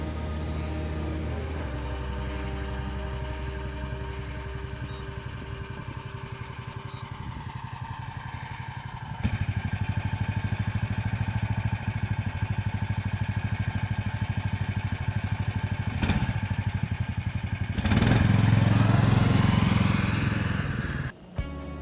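A cheap snowmobile's small engine running on packed snow, a steady mid-pitched drone that rises in intensity partway through and surges louder near the end, with no talk.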